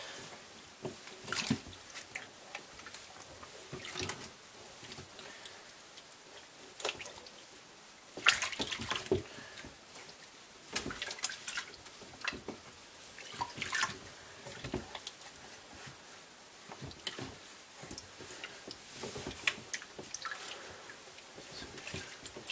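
A foam air filter from a Yamaha Banshee is squeezed and released in a basin of water, giving soft irregular squishes, drips and sloshes that repeat throughout at a close, moderate level with no talking.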